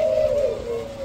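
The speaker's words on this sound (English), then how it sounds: "They are so much stronger in their coo." A mature male ringneck dove gives a single strong, low coo that slides slightly in pitch over about a second, heard close up against a faint background hiss.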